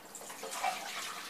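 Water being poured for cooking stuffed green peppers and rice, a faint continuous splashing stream lasting about a second and a half.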